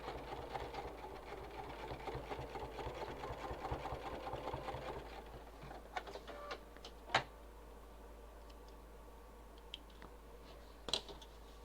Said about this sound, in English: I've got a nice good sturdy needle in here so it can go through all those layers of Decovil